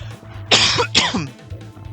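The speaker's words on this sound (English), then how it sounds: "It was a cough, but thank you." A single close cough in two quick bursts, loud and sharp, heard during a gaming session with a low hum underneath.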